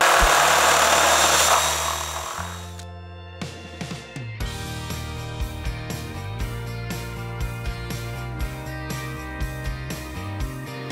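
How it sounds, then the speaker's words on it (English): A power drill bores an M12 hole into a 4WD panel for mounting a winch isolator; a loud whine spins down, then repeated short grinding bursts and clicks follow at a close, steady pace. "drill an M12 hole to mount my isolator"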